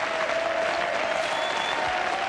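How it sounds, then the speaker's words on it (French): A French TV studio audience at a 2001 TF1 show applauds loudly and steadily, a dense continuous clapping close up with a faint tone running underneath. "je pense que pour Patrick Roy, vous pouvez applaudir très fort en tout cas"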